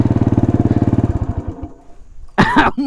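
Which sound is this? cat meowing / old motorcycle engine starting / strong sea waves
old motorcycle engine starting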